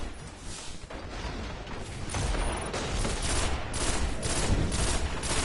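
Gunfire in the game Destiny, including shotgun blasts, heard as dense, rolling bursts of shots over a busy mechanical backdrop, growing louder toward the end, with no voices.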